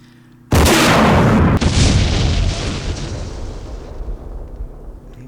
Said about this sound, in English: Good old recoilless rifle still pinging away.